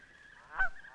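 A single faint Canada goose honk, one short nasal call rising briefly from a quiet background, heard alone at some distance.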